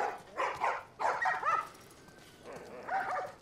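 Dogs in The Last of Us video game barking and yipping in short bursts, several quick barks close by separated by brief pauses, with a whimpering edge and no talking.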